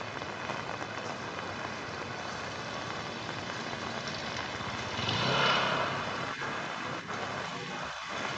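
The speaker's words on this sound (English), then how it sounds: "The rain is still falling quite heavily." Heavy rain pours down at Ben Thanh Market in Saigon, a steady dense hiss of water on the street, briefly swelling as something passes by about midway, with no one speaking.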